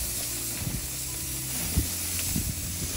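Lamb loin chops land on a grill preheated to medium-high, raising a steady broadband sizzle and hiss with a few soft knocks and clicks as the meat goes down.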